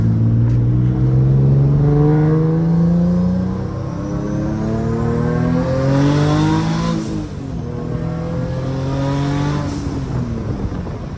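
A Nissan 350Z with an exhaust leak accelerates hard from inside the car, its engine note climbing through gears in rising, droning sweeps, loud and close throughout.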